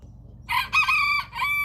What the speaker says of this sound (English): I'll give you guys a close-up of this dang rooster. Let's hear it.